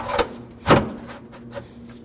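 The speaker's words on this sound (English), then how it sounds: "Now we can grab the beam and slide it in place." A metal radiator support beam slides into place on a 2014-2020 Acura MDX, giving a few short scraping thuds, with one heavier slide in the middle and a fainter knock near the end.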